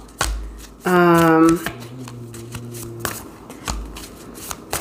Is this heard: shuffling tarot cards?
yes